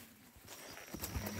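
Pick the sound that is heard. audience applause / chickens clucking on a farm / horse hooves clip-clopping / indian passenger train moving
horse hooves clip-clopping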